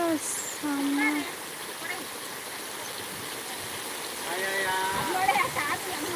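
A village stream rushes steadily in a continuous broad wash of flowing water, with voices talking intermittently over it.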